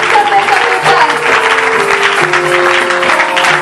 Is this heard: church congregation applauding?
yes